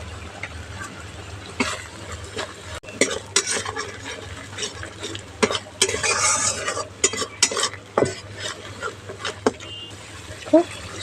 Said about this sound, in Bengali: খুব ভালো করে মশলাটা একটু ভাজা ভাজা করে নেব